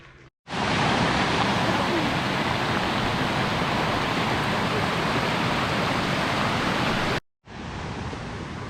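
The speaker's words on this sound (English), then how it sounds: "what's known as the Big Waterfall" A steady, loud roar of rushing water from the Big Waterfall at Plitvice Lakes, Croatia, fills the scene, broad and continuous, cut off abruptly near the end before resuming.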